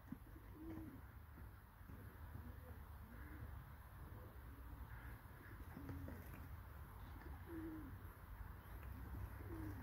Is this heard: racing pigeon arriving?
yes